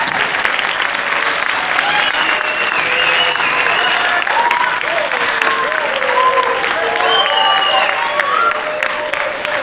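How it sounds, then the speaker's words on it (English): Sustained applause and some cheering from a high school audience honoring students at an academic signing ceremony, loud, continuous clapping from a large crowd with faint voices mixed in. "Please join me now in applauding these students"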